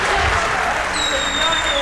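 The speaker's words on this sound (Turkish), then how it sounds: "Neyi alkışlıyorsunuz arkadaşlar?" A studio audience at a Turkish open-mic political talk show claps loudly and steadily, dense applause filling the room for the whole moment.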